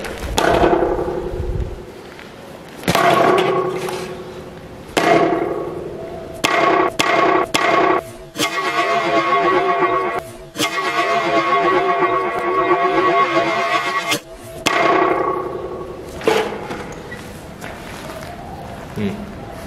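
Frozen butter swung in a sock smacks into a melon, several heavy thuds and whacks in an irregular rhythm, close and loud, with people talking and laughing between hits.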